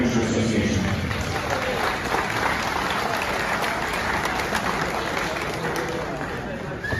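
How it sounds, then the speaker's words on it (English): A room of radio amateur association members gives a sustained round of applause at a swap meet and raffle event, a steady, dense wash of clapping that gradually fades, with a voice faintly heard at the start. "So I'd like to have a round of applause for the previous officers and board members of the Pikes Radio Amateur Association"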